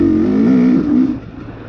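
A 2020 KTM XC250 TPI two-stroke dirt bike engine drops in pitch during a downshift, a loud near drone that holds steady and then eases off and fades after about a second.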